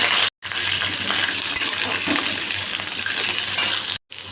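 Small native pointed gourds tipped into hot oil with cumin and chilli, a steady close sizzle and crackle of frying filling the pan, briefly cut by two short gaps.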